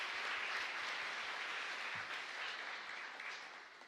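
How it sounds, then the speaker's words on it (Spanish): A church congregation applauds after Mass, a dense, even clapping that sounds somewhat distant and soft, holding steady for a few seconds before tapering off. "Un fuerte aplauso entonces para el Señor."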